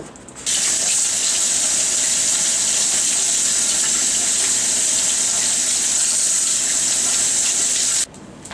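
Tap water runs steadily into a kitchen sink while an octopus is rinsed and its skin peeled off, a loud continuous splashing gush from start to finish with no talking.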